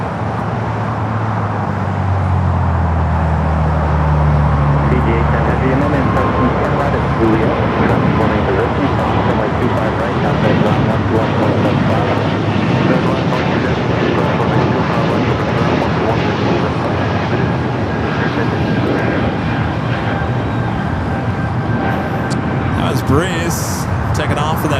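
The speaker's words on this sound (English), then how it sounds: "Breeze taking off for that Airbus A220-300" An Airbus A220-300 operated by Breeze takes off at LAX, a continuous, heavy jet roar that holds steady for the full stretch, close and loud with faint road traffic underneath.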